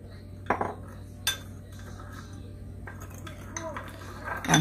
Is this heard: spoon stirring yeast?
yes